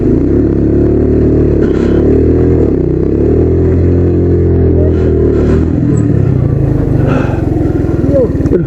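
A motorcycle engine labors up a steep, dangerous mountain climb, a loud continuous drone with shifting pitch and a rough, strained quality throughout, close and dominant with no breaks.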